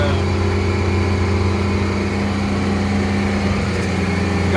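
A 2019 Freightliner M2 knuckleboom tire repair truck's engine running at high speed, around 3,600 RPM, as a loud, steady, unbroken drone close by with no talk.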